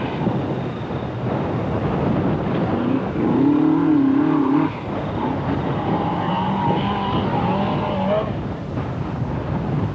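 Mitsubishi Lancer rally car on a short stage at a 1984 NSW Rally Championship event, engine note rising and falling as it passes, loud and close throughout, with a rumbling pass peaking around the middle and no talk.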